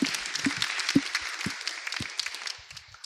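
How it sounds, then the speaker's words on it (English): Small audience clapping at a migrant entrepreneurship talk, thin and scattered with a few sharper claps standing out, fairly quiet and fading toward the end. "Can we have a round of applause as well?"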